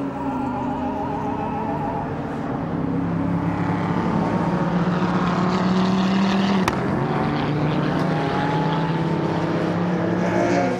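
A Ford race car at the Nürburgring 24-hour race gives a continuous loud engine roar that climbs and falls through gear changes, with the steady rumble of other traffic on the circuit.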